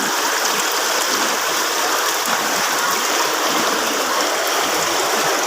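Typhoon floodwater from Bagyong Carina rushes down a sloping street, a strong, continuous hiss and churn of flowing water, loud and close with no pauses.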